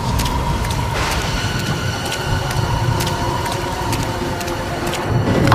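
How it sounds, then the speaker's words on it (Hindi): Steady rain falls outdoors as a heavy, continuous hiss, with scattered sharp drop ticks throughout and no voices. "अरे बरसात फिर शुरू हो गई।"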